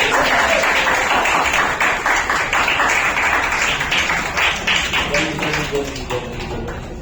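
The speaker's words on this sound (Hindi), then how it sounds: "भाई तालियां बजती रहनी चाहिए" A roomful of people clap steadily and loudly at an award ceremony, the dense applause easing slightly near the end while a voice carries on talking over it.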